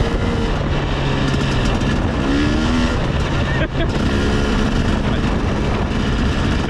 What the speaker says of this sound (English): we have dirt bikes so we can fucking go anywhere